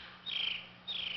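Two bright, sustained high chirps from birds in a woodland setting, each lasting a fraction of a second, clear and close over a quiet background.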